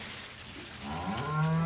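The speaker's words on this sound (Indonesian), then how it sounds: "Jadi guys, di belakang gua ada sapi." A white cow lets out a single low, close moo that swells in loudness toward the end.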